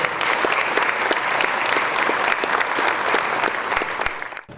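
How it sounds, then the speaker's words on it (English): Steady applause from a seated audience at a historical lecture event, dense clapping sustained and loud throughout, ending abruptly. "a big thank you and clap for Mike as well"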